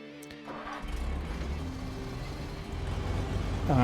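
A White Western Star truck in SnowRunner drives toward Island Lake, its engine a steady low drone that builds slightly in loudness as it goes.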